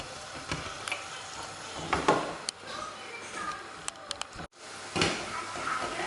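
Onion fries in oil over high heat for dal, giving a continuous close sizzle with scattered clinks and stirring knocks, while a voice talks intermittently over it.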